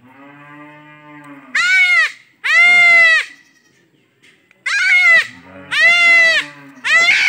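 Young goat kids bleat loudly and close by, calling out in five distinct wavering cries separated by short pauses, with quieter lower background sounds between calls.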